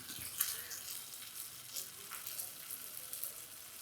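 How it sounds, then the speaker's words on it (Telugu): Pieces of fish fry in a pan for a home-style fish fry, giving a soft, steady sizzle and crackle with occasional small pops at a moderate, close level. "ఇది మాత్రం చేపలన్నింటినీ ఇరువైపులా బాగా వేయించుకోవాలి"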